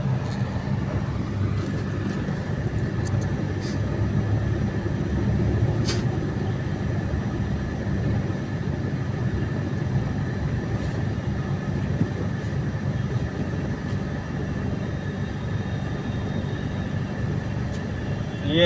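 A steady low rumble of a Delhi Metro train rolling past at moderate distance near ITO, blended with continuous road traffic noise, with no voices.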